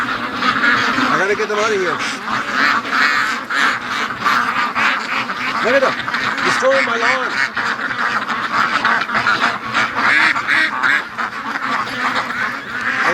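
Free-range ducks quack and honk in a noisy group out on a lawn, their calls rising and falling under someone talking over them.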